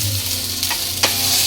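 Food frying and being stirred in a pan with oil, a steady sizzle with a couple of brief scraping strokes, close and fairly loud, with no talking.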